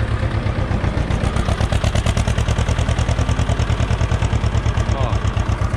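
Ursus C330 tractor engine idling steadily up close, a loud, even diesel chugging with a fast regular pulse and light mechanical clatter throughout.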